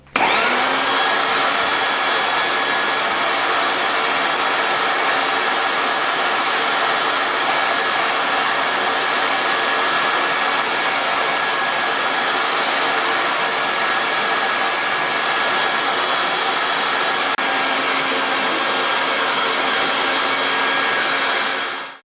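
Electric sausage machine running as meat is pushed into casings, a loud steady whine with a high motor tone held unbroken for over twenty seconds, close to the listener, no talking.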